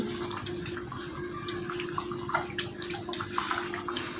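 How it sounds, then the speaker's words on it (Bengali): Village-style country chicken curry boiling in water in a pot over a gas flame, a steady close bubbling and simmering texture with scattered pops, continuous and fairly loud with no talking. "অনেকক্ষণ প্রায় জলটা দেওয়ার 10 মিনিট পর সুন্দর করে ফুটে এসছে"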